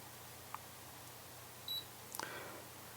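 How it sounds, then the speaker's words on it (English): A small camera beeps as its button is pressed to start recording, with a short tone, a longer steady beep and a quick pair of chirps in a quiet room. "It's long press, turns that on, it beeps"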